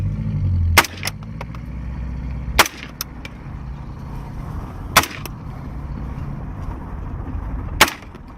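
Gunfire in a special operations training drill: four sharp, loud shots spaced a few seconds apart over a steady low engine-like rumble, with fainter pops between.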